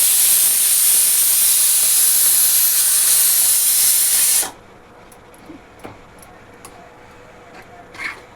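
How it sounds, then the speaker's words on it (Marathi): Pressure cooker letting off steam in one loud, continuous hiss for about four and a half seconds, which cuts off abruptly and is followed by quiet clicks and faint kitchen sounds. "कुकरच्या शिट्ट्या पटापटा होतात"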